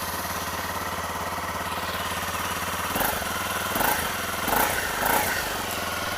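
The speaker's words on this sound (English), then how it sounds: "As you can hear stock, it's very quiet. I mean, there's really no appreciable noise at all from the motor." A stock 2014 Honda CRF250L dual-sport motorcycle engine idles steadily and close by, with a soft, even drone and a few brief throttle blips near the end, no talking.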